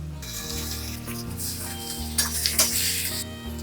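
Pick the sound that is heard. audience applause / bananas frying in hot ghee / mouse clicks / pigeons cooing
bananas frying in hot ghee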